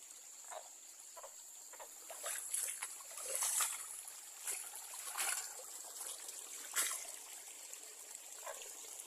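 Water trickles and splashes continuously, with a bright hiss and irregular gurgling bursts, close by and steady throughout.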